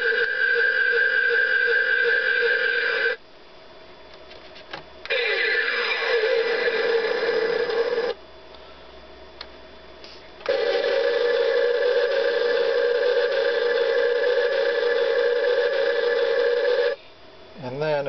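Playmates Star Trek First Contact electronic Borg Sphere toy playing its button-triggered sound effects: loud synthetic tones and sweeping electronic noises in three long bursts, separated by short near-silent gaps, close up with no talk.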